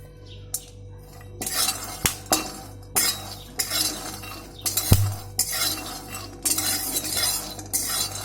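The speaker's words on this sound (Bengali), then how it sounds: "এবার একটু নেড়ে চেড়ে নামিয়ে ঠান্ডা হতে দেবো" A spatula stirs roasted peanuts in a metal pan with close, dry rattling and scraping. Sharp clinks and knocks against the pan punctuate the stirring, and there is no talk.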